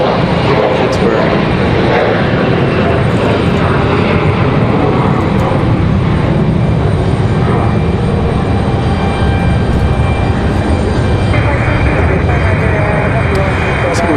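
A Republic Airways jet rotates early on takeoff at Raleigh-Durham, a broad, steady engine roar filling the whole stretch while a voice talks over it.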